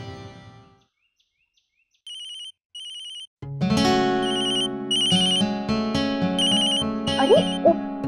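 A mobile phone left on charge rings indoors with short repeated ringtone bursts, followed by a louder, fuller melodic tune that plays on continuously.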